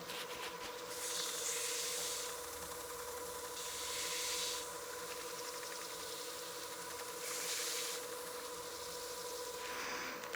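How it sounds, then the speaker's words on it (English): A cloth buffs friction polish onto a lathe-turned wooden bat house ornament: a steady whirring spin with several long, rising rubbing swishes, close and continuous, with no talking. "But we're just kind of buffing that friction polish that's in our dye"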